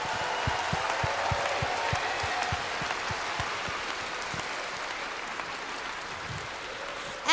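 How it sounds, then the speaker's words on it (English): An audience at a school spring concert applauds steadily, a dense wash of clapping with a few sharp individual claps standing out up close, fading slightly toward the end. "how about another round of applause for our second graders?"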